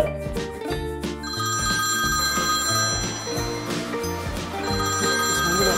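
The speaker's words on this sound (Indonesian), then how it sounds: "Oh, ini telepon dari Praya" A telephone rings in a steady repeating pattern, loud and close, playing over continuous background music with no talk.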